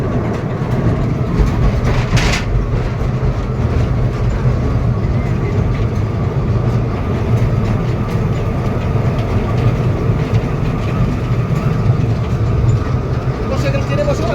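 Train rolling on rails, a continuous loud rumble and rattle heard from inside the carriage, with children and adults talking throughout.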